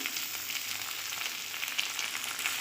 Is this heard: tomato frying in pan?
yes